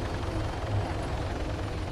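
Steady low rotor thump and engine drone of a military helicopter in a war video game, continuous and moderately loud throughout with no talk over it.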